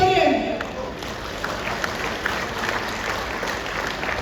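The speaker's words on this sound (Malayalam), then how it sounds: "അപ്പൊ ഒരു കൈയടി പോലെ." A crowd claps in a steady, diffuse patter that carries on for several seconds after a brief voice at the start.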